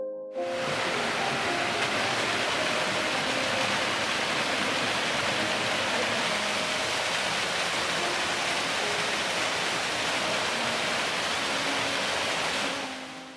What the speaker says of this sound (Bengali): হোমস্টে থেকে ঝর্ণায় আসার পথ আর এই ঝর্ণা পুরোটাই অ্যাজেলিয়া হাউস হোমস্টের থাপা পরিবারের প্রপার্টি।